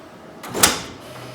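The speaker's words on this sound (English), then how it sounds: "close the drawer" A paper drawer on a print shop printer is pushed shut with one soft, fairly faint thud, followed by a quiet mechanical hum.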